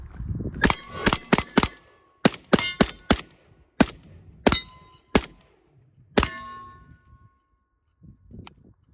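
A Kalashnikov AK rifle being handled: a run of sharp metallic clacks and clangs as the magazine is swapped and the action charged, close and loud with brief pauses, ending in a small click.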